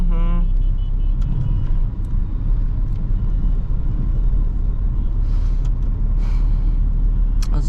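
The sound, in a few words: MG compact car passing in traffic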